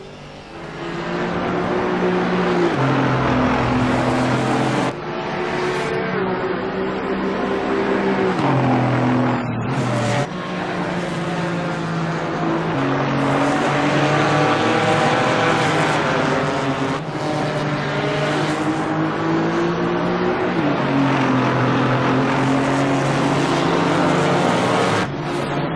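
GT4 race car engine in the sim racing game Assetto Corsa Competizione, a loud continuous roar that climbs and drops through repeated gear shifts and revs, with brief dips between shifts and no talking.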